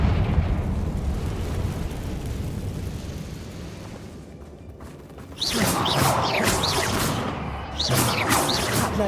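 A Confringo fire spell explodes in Hogwarts Legacy with loud bursting, whooshing blasts that start after a steady rumbling stretch, then a second burst follows near the end.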